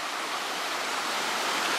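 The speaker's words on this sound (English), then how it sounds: "you've got all this standing water and then the waterfall down there" A woodland waterfall rushes steadily in a dense, even wash of falling water, close and constant throughout with no voices.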